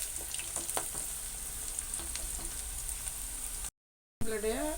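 Wheat flour onion pakoda frying in hot oil, a steady crackling sizzle with dense small pops throughout, briefly cut to silence and then resuming.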